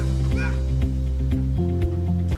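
A man imitates a dog barking with a series of gruff bark-like vocal bursts over a steady low hum, close and fairly loud.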